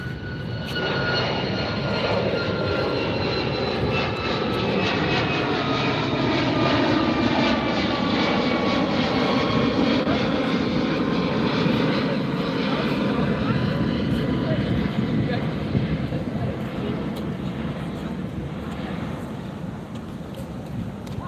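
A Southwest airliner in special livery roars past at LAX, a loud, sustained jet engine rumble with a shifting pitch that swells and slowly fades, with people talking faintly underneath.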